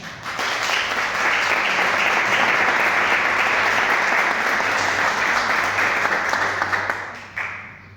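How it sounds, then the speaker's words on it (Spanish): Audience applause at a photo exhibition opening on Mauthausen in Vigo, a dense, steady wash of many hands clapping that holds for about seven seconds and then fades out near the end. "os pediría un aplauso para él"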